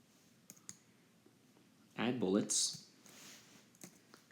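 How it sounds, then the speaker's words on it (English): A few sharp, isolated key clicks on a computer keyboard, spread across a quiet stretch, with a brief burst of talk in the middle. "enter a new line by clicking the enter button on your keyboard"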